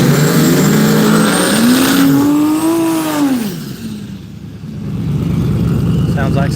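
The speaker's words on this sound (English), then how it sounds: "some whining under the hood, I think, of the Pontiac" A Pontiac at Hypoxia Dragway in Evanston, Wyoming, with a loud close engine under the hood whining and rising then falling in pitch, amid outdoor race-track noise and a voice speaking.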